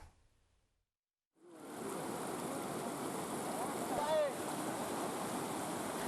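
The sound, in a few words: rushing river current crossed by bamboo raft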